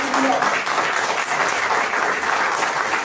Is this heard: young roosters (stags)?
no